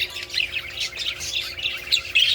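A cobalt blue breeding pair of pet birds squawks and chirps in close, harsh bursts, the calls repeating rapidly one after another with a faint steady hum beneath.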